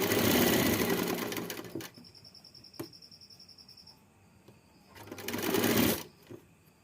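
An electric sewing machine stitches blouse fabric in two loud, rapid rattling bursts, one at the start and one near the end, separated by a quieter pause with light clicks and handling noises.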